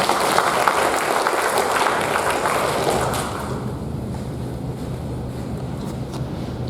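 Audience applause for Irina, dense and steady clapping in a room for about three seconds, then dropping to a quieter, thinner patter mixed with broadband noise.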